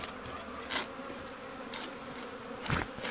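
Honey bees buzzing around an open hive during April hive work, a continuous soft drone with individual insects passing close by now and then.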